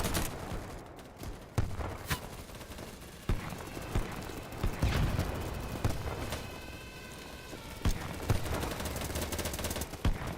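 Gunfire rattles through a Battlebit firefight as several teammates shoot, with dense, steady machine-gun bursts and sharp individual shots cracking out repeatedly over ten seconds at moderate distance, mixed with faint footstep clatter.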